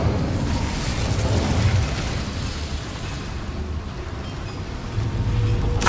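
The Incendio fire spell erupts in the video game Hogwarts Legacy as a loud, rushing burst of crackling flame that roars on for several seconds before swelling again at the end.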